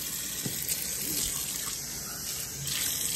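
Running water rinses out hair during an at-home men's permanent straightening treatment, a steady splashing stream with small trickles and drips, close and continuous with no talk.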